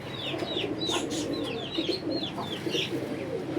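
Pigeons of a high-flying breed give soft, repeated coos over a steady background hum, with several brief calls scattered across the moment at moderate distance.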